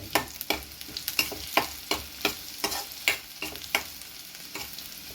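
Onion frying in a pan for a toor dal curry, a spatula scraping and stirring in regular strokes over a steady close sizzle, with no voices.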